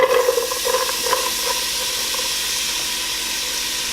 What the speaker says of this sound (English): So we're gonna go ahead and add the onions now.